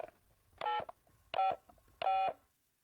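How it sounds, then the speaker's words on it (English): Three short bursts of push-button phone dialing tones, each a steady two-pitch beep about a quarter second long, evenly spaced with brief silences between. "You picked up the phone and you heard what's called a dial tone"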